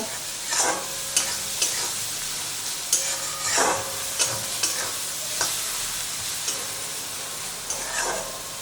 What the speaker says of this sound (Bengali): এখন মশলাটাকে খুব ভালো করে কষিয়ে নেব।